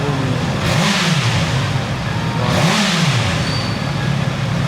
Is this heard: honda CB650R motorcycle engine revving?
yes